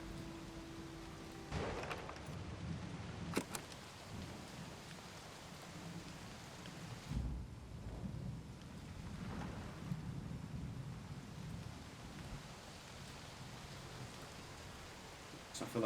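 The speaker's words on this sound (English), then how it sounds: "Can I just record like the sound, the rain?" Steady rain falls outdoors with a constant hiss, while low rumbles of thunder roll in the distance and a few sharp knocks sound nearby.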